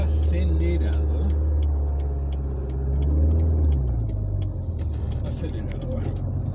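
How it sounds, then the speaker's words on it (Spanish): A car engine idles at raised revs on a very cold day, a steady low hum with regular ticking running throughout, close and fairly loud, while someone speaks over it. "El coche está acelerado."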